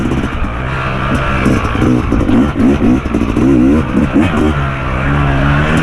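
A Yamaha YZ250X two-stroke dirt bike engine revs and bogs on a rough trail, loud and close for the whole stretch, with the pitch rising and falling in rapid throttle bursts and no talk over it.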